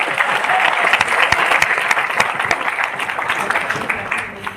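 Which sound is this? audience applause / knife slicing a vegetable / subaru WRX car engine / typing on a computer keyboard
audience applause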